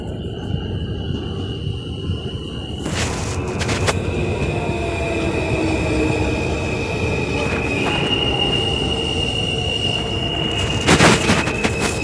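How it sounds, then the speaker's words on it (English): A train pulls into a station with its wheels squealing in long, high-pitched metallic tones over a steady rumble of rolling rail cars, close and continuous throughout. "Wait for the train to come in today."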